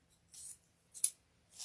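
Scissors trim the end of a velvet ribbon bow for a floral design with three quick, faint snips spaced apart in an otherwise quiet room.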